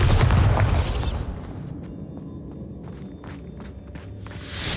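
A Bombarda blasting spell goes off in the Hogwarts Legacy video game with a loud burst at the start, then a fading rumble with scattered footsteps and small debris clatter afterward.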